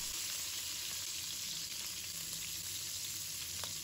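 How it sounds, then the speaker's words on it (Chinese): Crab fries in a wok after being flipped, a steady, close, even sizzle of hot oil with faint crackles throughout and no voices. "把它煎一下，煎定型之后"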